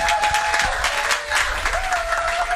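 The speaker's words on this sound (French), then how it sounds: "il acclame et il applaudit très fort le Seigneur." A church congregation applauds loudly, with steady dense clapping and a few cheers mixed in throughout.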